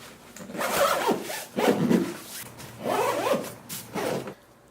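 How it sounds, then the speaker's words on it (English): Zipper on a bike packing bag drawn closed in several long pulls with short pauses between them, close and clear, rasping with occasional fabric rubbing. "Okay, with both wheels in place, I'll just zip it closed."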